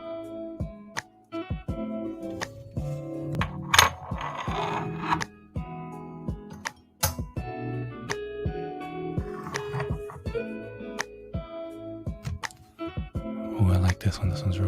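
Military challenge coins from United States Southern Command and other units clink and rattle as they are handled, with repeated sharp metallic taps and scrapes close up, alongside a speaking voice throughout.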